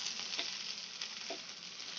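Potatoes fry in a pan beside okra, a steady soft sizzle with a faint crackle and a couple of quiet stirring touches, heard alone without voices.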